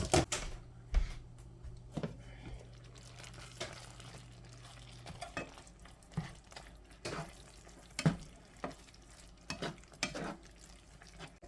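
Baby spinach wilting down in a pan while being stirred, with soft scattered scrapes and taps over a faint, quiet sizzle.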